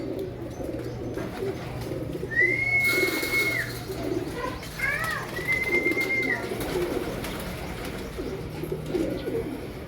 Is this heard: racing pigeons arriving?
yes